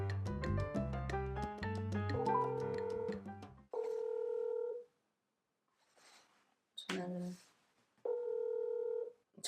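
A phone dials with quick keypad tones, then a repeating ringback tone sounds in separate bursts with quiet gaps between.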